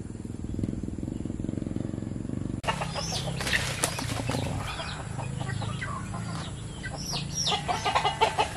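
Village chickens settling to roost in a tree beside rice fields at dusk, with loud wing flapping and rustling followed by scattered clucks and calls, close by over a steady outdoor background.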